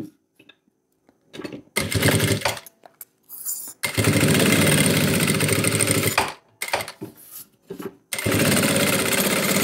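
Sewing machine stitching the side and bottom seams of a shoulder bag's fabric lining, running in loud sustained bursts of steady whirring separated by short pauses, close up with no talking.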